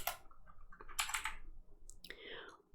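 Clustered keystrokes on a computer keyboard while entering Python code, coming in quick close-up bursts of clicks with short pauses between them.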